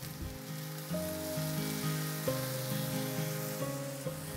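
Garlic and onions fry in about three tablespoons of olive oil for a mushroom stroganoff, a soft steady sizzle with faint crackle and low background hum throughout.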